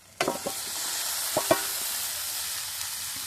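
Vegetables dropped into spiced masala frying in a pan for a village-style mixed vegetable curry, a few soft stirring scrapes early on over a steady low sizzle.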